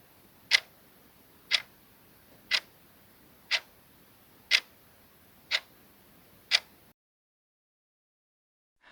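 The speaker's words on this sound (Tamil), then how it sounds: "அப்போது அவனுக்கு கடிகாரத்தின் சத்தம் நன்றாக கேட்டது." A clock ticks seven times at an even one-per-second pace, each tick sharp and close against a quiet background, then the ticking stops and silence follows.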